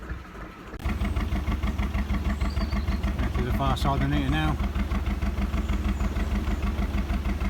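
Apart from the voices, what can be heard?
narrowboat engine running in the rain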